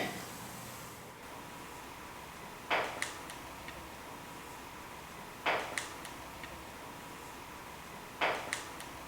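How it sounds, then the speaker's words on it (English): Faint, sharp knocks sound in a quiet room during a ghost investigation, arriving in small clusters roughly every three seconds over low background hiss. "where'd that knocking noise come from?"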